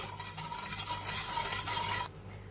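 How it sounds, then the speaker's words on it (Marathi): Sugar syrup boils in a pan with a steady bubbling hiss, continuous and fairly close, ending with a slight drop near the end. "अक्षरशः एक ते दीड मिनिटात पाकाला उकळी आलेली आहे"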